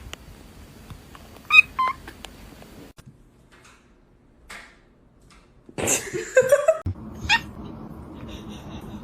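A pet cat gives a short meow early on, then a louder, drawn-out sliding meow later, close by in an otherwise quiet room with faint background noise.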